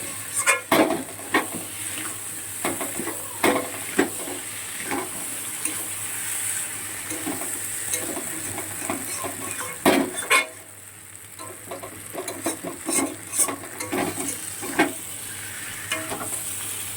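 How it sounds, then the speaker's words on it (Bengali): Crab masala sautéed in a pan with spices, a continuous close sizzle punctuated by frequent scraping and clinking of a spatula against the metal pan, with a brief pause midway before stirring resumes; no talking. "দেখো আরও 2 থেকে 3 মিনিট কষাবো।"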